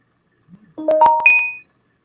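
A mobile phone notification sounds as a short run of rising electronic beeps, clear and close, after a brief soft rustle, then falls silent.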